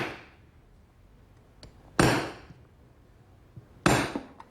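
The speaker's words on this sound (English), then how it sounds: "I found that with the chisel, you have to strike it a little bit harder" Two sharp mallet blows on a woodworking chisel while building a kitchen pantry cabinet, each a crisp woody crack with a short ringing tail, about two seconds apart, with faint tapping between.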